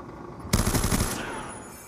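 Rapid automatic gunfire in Black Ops 2, a loud close burst of about half a second that cuts in abruptly, then leaves a fading echo over quieter game ambience.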